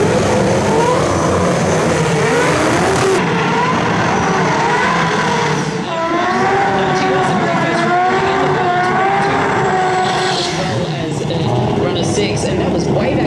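A high-horsepower Factory Experimental drag race car at the Winter Nationals roars loudly throughout, its engine note rising and sweeping in pitch as it revs, with a dense, continuous drone.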